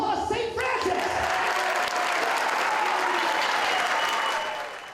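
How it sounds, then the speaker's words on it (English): Audience at St. Francis breaks into loud, sustained applause, many hands clapping densely with a brief voice at the very start before the clapping fills the space and fades slightly at the end. "Give yourself a round of applause, St. Francis!"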